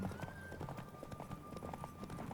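A horse galloping in a race in the video game The Witcher 3, rapid rhythmic hoofbeats drumming steadily close up, with a faint sustained tone running underneath.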